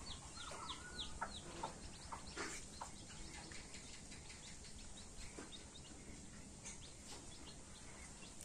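A mother hen clucks softly while teaching her newly hatched chicks to eat, with thin chick peeps scattered over a steady, hissy outdoor background.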